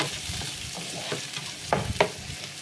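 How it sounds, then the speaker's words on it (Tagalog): Garlic and onion sauté in a hot pan with a steady close sizzle, broken by a few sharp scrapes and clacks of a spatula stirring near the end. "nagisa na ho ako ng bawang sibuyas."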